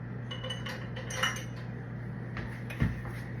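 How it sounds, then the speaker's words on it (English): Glass canning jars for homemade salsa clink and knock together as they are gathered, with a couple of sharper clinks standing out against a steady low hum, fairly close and without talk. "I'm going to get my jars."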